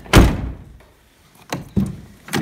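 Door of a 1990 Chevy Beretta GTZ, a big coupe door with worn door pins, heard as a loud, close thunk followed by several softer knocks and clunks as it is worked.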